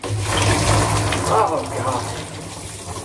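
Water gushes and splashes out of a tuba into a bathtub, a close, loud, continuous pouring rush with bubbling swells, with a brief exclaiming voice over it.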